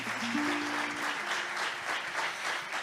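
An audience applauds after a flamenco song at an acoustic live session, a steady, close wash of clapping lasting a few seconds with brief sung or spoken tones over it.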